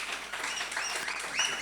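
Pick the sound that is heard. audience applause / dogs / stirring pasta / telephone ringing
audience applause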